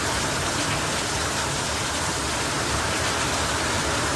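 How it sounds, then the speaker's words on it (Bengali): Heavy rain pours steadily outside a family home in the early evening, a dense, unbroken wash of hiss and patter that fills the whole stretch at a constant loud level, with no talking. "দেখো কিরকম বৃষ্টি হচ্ছে"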